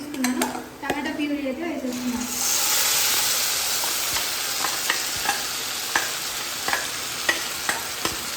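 Four tomatoes cooking in a pan on a stove as a loud, close, steady sizzle begins after a short spell of talk, with occasional light clicks of a utensil against the pan.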